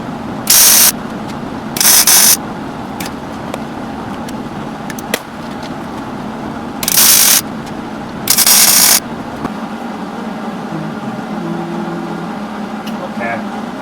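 Short bursts of MIG welding as a washer is tacked onto the edge of a steel collar for a bead roller tipping die, four loud crackling bursts of about half a second each over steady shop background noise.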